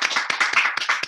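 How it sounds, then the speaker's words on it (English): A small group claps for a speaker after a talk, a brief, close, uneven patter of hands with separate claps audible, no voices. "Should we just give Rob a bit of a round of applause for that?"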